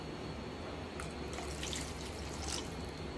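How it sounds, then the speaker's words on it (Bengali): Water poured into a cooking pot while making hilsa fish curry, a steady faint running splash starting partway through over a constant background hiss, with no talk. "এটা আর একটু জল মধ্যে দিই।"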